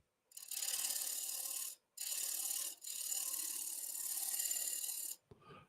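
A gouge cuts into wood spinning on a lathe at about 1200 RPM in three close, loud, raspy bursts of steady chattering, separated by short pauses, then a quiet clunk at the end.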